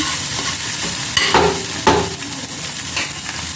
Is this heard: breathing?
no